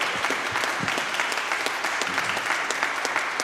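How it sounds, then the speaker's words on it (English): An audience at a lunchtime brass ensemble recital gives dense, steady applause that continues evenly throughout, with no talking over it. "I think these guys need a round of applause for sight reading a lot of this"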